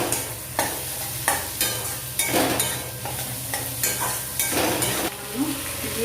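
Ridge gourd with turmeric and salt frying in a pan with onions, a spatula scraping and stirring in repeated strokes over a continuous sizzle, close and fairly loud.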